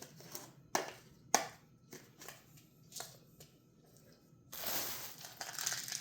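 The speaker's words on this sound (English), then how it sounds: "So here's the granola that you then you put on the lid." Granola is poured and crunched onto the lid of a fruit and yogurt cup in a kitchen, giving sharp dry clicks and rustles, then a longer crinkling scatter at the end, close and fairly quiet.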